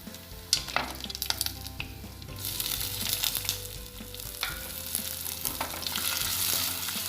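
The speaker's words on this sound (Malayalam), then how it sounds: "ഇതിലേക്ക് നമുക്ക് ചതച്ച് വെച്ച ഇഞ്ചി, വെളുത്തുള്ളി, കാന്താരി മുളക് കൂട്ടി ഇതിലേക്ക് ഇടാം." Crushed ginger, garlic and bird's eye chili frying in hot oil for a Kerala-style crab kurma, a steady loud sizzle with scattered crackles and stirring scrapes, no voices.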